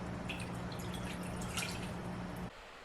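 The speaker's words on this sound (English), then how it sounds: "First of all, goes in 1 cup of water." One cup of water poured into a pot while making eclair pastry: a steady, close trickling and splashing stream that runs for about two and a half seconds and then cuts off sharply.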